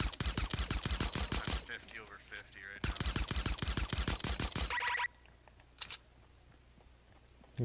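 Rapid bursts of automatic gunfire in Fortnite, two long loud volleys of closely spaced shots followed by a quieter stretch with a few faint isolated shots.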